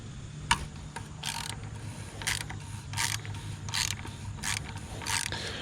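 A 24 mm socket wrench ratchets a Jeep oil filter loose: a series of short, quiet clicking bursts in an uneven rhythm, close up, with a low background hum.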